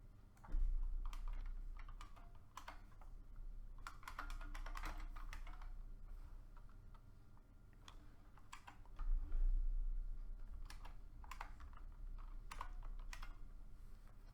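Quiet keystrokes on a computer keyboard while entering text into a title editor during video editing, irregular clicks in short bursts with pauses, close and without talk.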